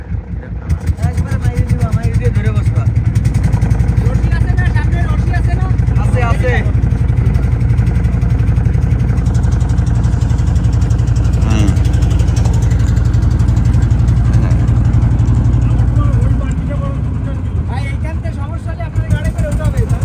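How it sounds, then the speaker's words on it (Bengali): The diesel engine of a fishing trawler thuds and chugs steadily at idle as the boat is brought in to dock at a muddy shore, loud and close throughout, with people talking over it. "ওই যে হাত দেখাচ্ছে কোন জায়গায় লাগাতে হবে ট্রলার এনামুল"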